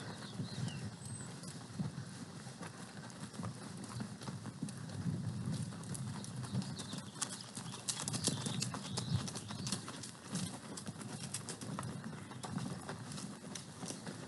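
Horses walking on a ranch trail ride, with steady soft clip-clop of hooves on the trail under outdoor ambience, and faint birdsong in the background.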